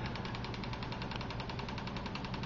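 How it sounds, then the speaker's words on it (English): A simple small model steam engine runs steadily, a rapid even chuffing and knocking rhythm with a mechanical rattle, close and continuous on its own. "that's Maggie and the steam generator. Or actually, Maggie and the steam engine"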